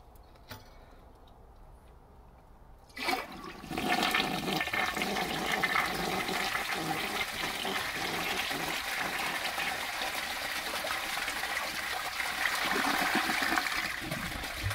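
A pink 1955 Standard Cadet toilet flushes loudly at close range, starting with a click and then a steady gush and swirl of water that continues as the bowl refills.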